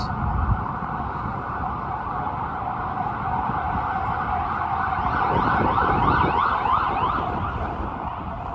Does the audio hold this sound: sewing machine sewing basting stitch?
no